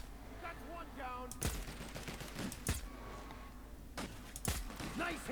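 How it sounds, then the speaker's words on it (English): Gunfire in the video game Outer Worlds, sharp broadband shots at irregular intervals, several loud cracks spread across the stretch, mixed with game sounds and a talking voice. "Opening fire"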